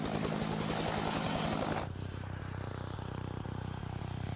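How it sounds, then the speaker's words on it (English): A helicopter's main rotor wake slaps into the tail rotor wake, producing a steady, loud, throbbing rotor roar that abruptly shifts to a duller, lower drone partway through. "Often the first thing you hear from a helicopter is the sound of the wake from the main rotor"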